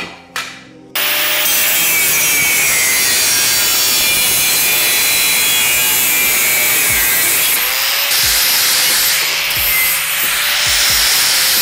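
Steel pieces for a modern metal dining table base are cut at 45-degree angles, a loud, continuous grinding rasp that starts abruptly after a second and holds steady throughout.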